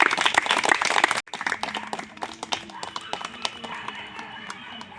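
Children at an orphanage clap together, a dense burst of clapping that breaks off sharply and then continues as sparser, uneven claps, with voices of adults talking nearby.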